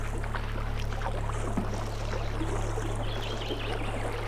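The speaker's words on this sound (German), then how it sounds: "Ja, wie Wasser, das schnell fließt." Fast-flowing water rushing steadily in a cartoon scene, a continuous moderate wash of sound with no speech.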